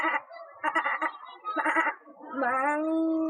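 A voice mimics goats in a mimicry act at a 2025 arts festival: several short, quavering bleats in quick succession, then one long, drawn-out bleat, loud and close with no other sound.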